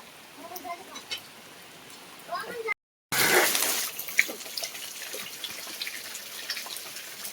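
Steady water running and splashing as rainwater flows off a house roof, with a brief cut in the middle and faint speech earlier on.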